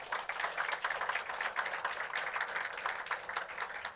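A church congregation claps together in a steady, dense wash of applause that fills the whole space, with a few faint voices mixed in.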